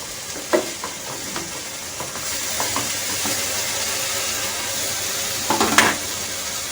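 Boiled chicken is mixed into a sizzling spaghetti sauce in a pan, with a few scrapes and clinks of a spoon over a steady hiss of frying, heard close up.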